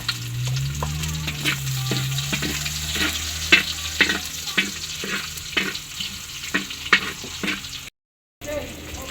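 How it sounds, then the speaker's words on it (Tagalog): Kikiam and a bit of pork fat sautéing in a hot pan for hab-hab, a steady sizzle broken by repeated scraping stirs close by, with a short cut to silence near the end. "So bali po magigisa na."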